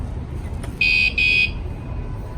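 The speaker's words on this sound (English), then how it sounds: "let's demonstrate what happens when you touch the scooter with the motion alarm detector activated" The motion alarm on a Dualtron Thunder electric scooter gives two short, shrill electronic beeps in quick succession, loud and close, over a low background hum.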